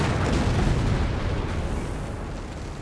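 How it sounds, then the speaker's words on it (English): In Company of Heroes 3, an anti-tank gun and its crew are blown apart in a loud, heavy explosion with a deep rumbling boom that fades out over a few seconds. "anti-tank gun crew and anti-tank gun effectively just explode there"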